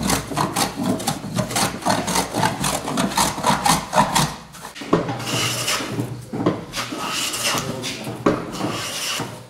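A small metal block plane shaves along a wooden edge in quick repeated rasping strokes, close and fairly loud, then eases into longer, smoother passes.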